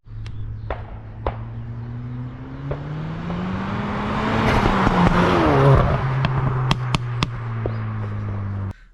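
A 2023 Ford Focus ST Estate automatic, Mark 4.5 facelift, with a steady engine drone that swells as it revs and passes, with sharp exhaust pops and crackles near the end.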